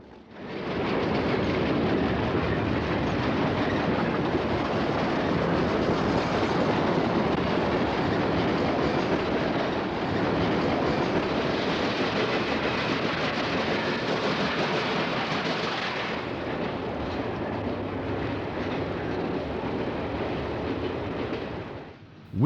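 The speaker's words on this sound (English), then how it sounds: "An eastbound freight comes rolling out of the fog with an Alco C415 center cab switcher cut in behind the road power." An eastbound freight train rolls past with an Alco C415 center cab switcher cut in behind the road power, its wheels clattering and rumbling loudly and steadily through a foggy scene, with no one talking.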